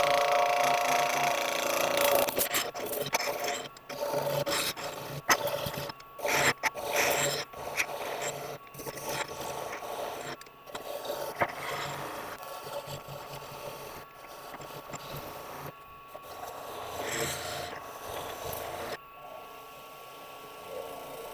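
A skew chisel cuts wood on a small lathe with continuous scraping and shearing, broken by short pauses as the tool lifts off the spinning workpiece.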